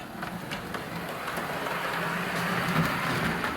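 A battery-powered DJH O gauge B1 model steam locomotive running on an outdoor garden railway, giving a steady close whirring and rattling hum that builds slightly, with faint ticking.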